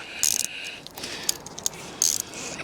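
Ratchet tightening a fastening on an MG ZT 190, heard as two bursts of close, rapid clicking with a few isolated ticks between them.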